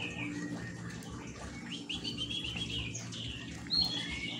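White-rumped shamas sing inside a large aviary at a bird-breeding farm, with bright chirps and whistled phrases layered over a steady background hum, faint to moderate in loudness.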